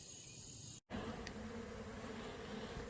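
Honeybees buzz around a tote water feeder, a steady close hum of many wings over outdoor background noise with a brief dropout, no talk.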